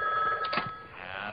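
A telephone bell rings in a brief burst, a bright electric trill heard indoors at moderate volume, with no talking.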